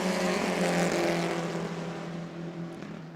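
Stock cars racing at New Smyrna racetrack roar loudly and close as a pack passes, the engine drone fading slightly with no voices.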